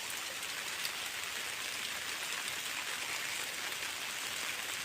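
Heavy monsoon rain pours steadily onto a tidal creek on the Konkan coast near Vijaydurg, a dense, even hiss that holds at the same loudness for the whole stretch, with no voices over it.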